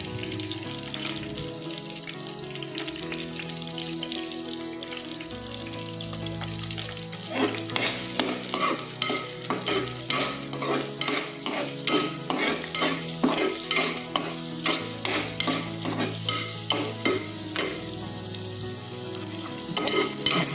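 Sliced onions fry and sizzle in a pan for a pea curry. Background music plays at first, then from about a third of the way in a spoon scrapes the pan with steady, rhythmic stirring strokes over continuous sizzling.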